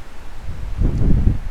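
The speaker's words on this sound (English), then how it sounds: "Oh, there's a big gust of wind." A big gust of wind sweeps through a Wisconsin garden in June, building from a low breathy rumble into a louder rustling surge of leaves and wind buffeting the microphone.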